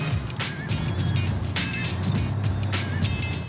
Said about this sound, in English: I drive a dump truck